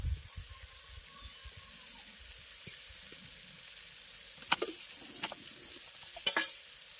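Boiled potatoes being mashed into a pan of banana flower and chana dal, soft scraping and squishing strokes over a faint low sizzle, quiet, with a few sharper clustered bursts toward the end.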